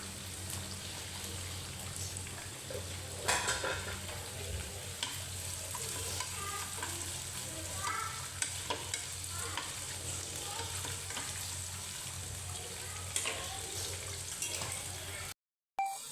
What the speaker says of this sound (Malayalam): ഒരു സവാള നീളത്തിലരിഞ്ഞ് കുറച്ച് നേരം വഴറ്റണം